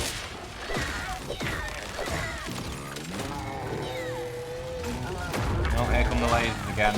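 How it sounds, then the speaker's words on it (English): Laser attacks in the video game Grounded, a run of sharp crashing blasts and zapping hits layered over game music and effects, loud and continuous, with a player talking throughout. "Oh, here come the lasers again."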